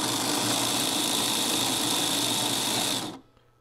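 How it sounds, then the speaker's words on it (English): An O gauge model diesel locomotive runs on a test, giving a steady, loud mechanical whir with a constant hum that continues for about three seconds, then cuts off abruptly, leaving near silence. "it's time to test this engine"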